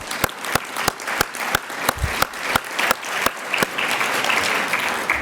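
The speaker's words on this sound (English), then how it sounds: "Can we give one more round of applause?" Symposium audience applauds, starting with a few distinct sharp claps at a steady rhythm that quickly thicken into dense, sustained clapping from a full room.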